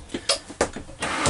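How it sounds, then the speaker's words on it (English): Full-pull storage drawers in a 2019 Rugged Mountain Granite truck camper sliding and knocking shut, a few short close thuds and scrapes spaced apart, fairly near. "These are all full pull drawers."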